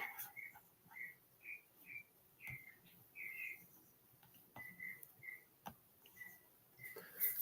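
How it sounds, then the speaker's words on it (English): Birds chirp outdoors in a repeated series of short, bright whistled notes at an even, steady pace. They sound somewhat distant and faint over a quiet background. "the birds are trying to show off out there"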